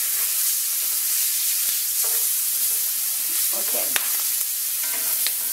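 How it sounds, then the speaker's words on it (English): Onions sautéing in a skillet while being stirred, a steady bright sizzle with scraping stirring clicks close up; a voice briefly speaks. "you're gonna pour the onions right there into the skillet, and you're going to saute those onions"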